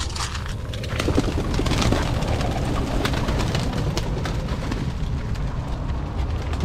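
Pigeons coo softly in a garden loft amid a steady outdoor rumble, with brief rustles and flutters scattered throughout.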